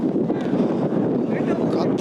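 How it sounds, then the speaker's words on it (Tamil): Wind buffets a microphone outdoors at a village cricket tournament semi-final, a loud, steady rumbling roar that runs throughout while a voice talks. "காற்று நல்லா அடிக்குதுங்க."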